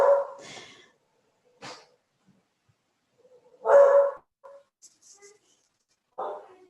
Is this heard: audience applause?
no